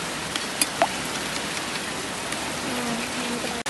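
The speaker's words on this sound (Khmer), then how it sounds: "ហើយថតកំពុងតែភ្លៀងទេបងប្អូនអើយ" Rain falling steadily outdoors during cooking of roast pork belly, a dense even patter with a few closer drops tapping a surface, fairly faint and continuous.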